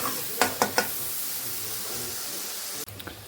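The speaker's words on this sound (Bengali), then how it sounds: "পেঁয়াজটাকে ভালো করে এখন আগে ভেজে নিই লাল করে।" Onion frying in oil with cardamom and cinnamon, a constant close sizzle with a few sharp spoon taps early on and a brief clatter near the end.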